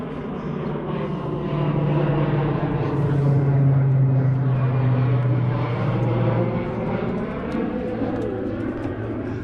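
A low-flying crop duster propeller plane drones loudly overhead, its engine swelling and fading steadily with no talking.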